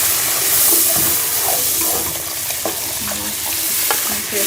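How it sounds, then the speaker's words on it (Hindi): An egg, milk and sugar mixture being stirred into semolina halwa frying in a pan: loud, close sizzling with wet stirring and scraping strokes throughout, and no voices. "इसके अंदर ये अंडे, दूध और चीनी का मिक्सचर जो है वो मिक्स करेंगे।"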